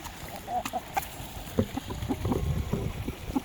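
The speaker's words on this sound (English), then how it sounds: "I'll let you watch the chickens while they have fun with the tomato." Backyard chickens pecking at a tomato, giving soft, scattered clucks and short calls at close range over quiet rustling, irregular and fairly faint.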